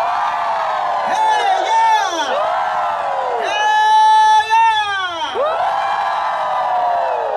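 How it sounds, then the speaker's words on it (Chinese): A large crowd at an outdoor seaside evening concert cheers loudly, with overlapping whoops and shouted voices rising and falling in sustained waves close by. "给自己掌声鼓励。"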